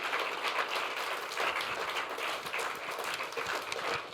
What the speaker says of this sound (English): Let's get together and give him a great round of applause